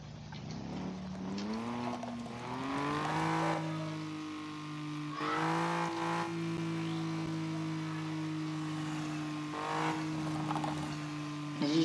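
An Audi B3 car engine runs with a steady, close drone that climbs in pitch early on as if revved, then holds an even hum with slight swells.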